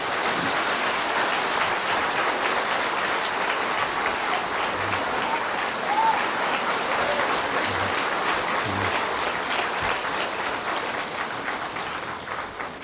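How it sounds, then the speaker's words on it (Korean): Warm applause from a church audience welcoming a television and film actor, a steady dense clapping that fills the room and tapers slightly at the end. "뜨거운 박수로 환영하겠습니다."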